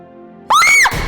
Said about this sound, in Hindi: चिल्ला क्यों रही थी?